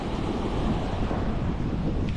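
Steady wind buffeting the microphone, a constant low roar with no breaks and no voices.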